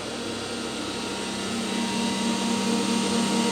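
A compressed air dryer in a car workshop runs with a steady, loud mechanical whir and broadband hiss, rising slightly in level, with no voices.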